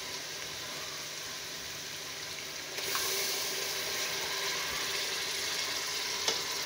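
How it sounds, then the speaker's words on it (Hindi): Garlic, ginger and green chili paste hits hot oil in a pot of murgh chole, and a steady close sizzle swells louder as the paste goes in, with a faint clink near the end and no talking. "अब इसमें डालेंगे लहसुन अदरक और हरी मिर्च का पेस्ट।"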